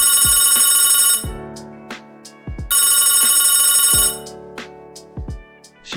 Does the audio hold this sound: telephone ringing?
yes